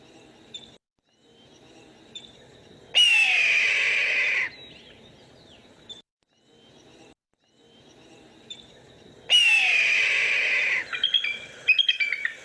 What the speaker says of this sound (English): The first call is actually the call of a red-tailed hawk